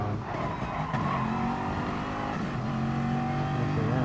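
An Audi endurance race car in a racing video game corners at half throttle, its engine holding a steady, close drone with rising and falling pitch and faint tire noise throughout.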